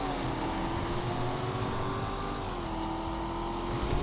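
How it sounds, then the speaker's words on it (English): A fast car engine in GTA 5 drones at a steady high pitch, loud and continuous, with no talking over it. "This car is fast and it sound good."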